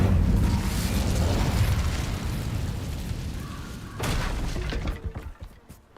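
An Incendio fire spell is cast in a Harry Potter game, a loud fiery burst and roaring crackle that fades, then a second sharp flare near the end.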